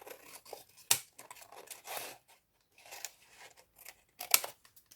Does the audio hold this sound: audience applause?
no